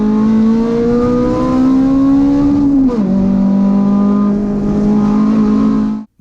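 A stock, regularly maintained all-wheel-drive Honda engine revs hard past 8,000 RPM, a loud, steady high-pitched howl that holds, dips briefly at a shift around the midpoint, then climbs again before cutting off abruptly.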